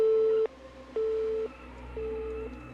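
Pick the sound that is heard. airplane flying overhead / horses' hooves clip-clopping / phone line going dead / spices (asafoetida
phone line going dead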